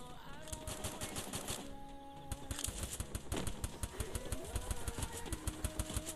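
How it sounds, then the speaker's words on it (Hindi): Rapid bursts of automatic gunfire in the Garena Free Fire game during a Clash Squad match, dense repeated shots with game music and effects, loud and continuous. "काफी भाई काफी फायरिंग चालू है"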